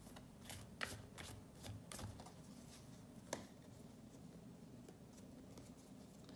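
Deck of cards being shuffled and cut, quiet rustling riffles and a few sharp snaps of cards against each other over a faint background hiss.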